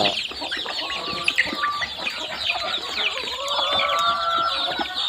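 Backyard chickens clucking steadily at close range while being fed, a dense overlapping chorus of short calls running throughout with no talk.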